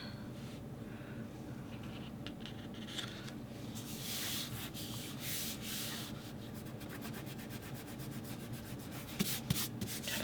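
Steady, soft rubbing and scraping of fingers working repositionable adhesive off paper on a craft travel album page, close and continuous with a few brighter scratchy strokes.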